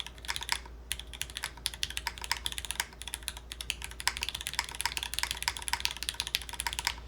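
Typing on a custom ergonomic mechanical keyboard, with a steady, fast stream of close, crisp key clacks and occasional heavier thocks throughout, with no voices.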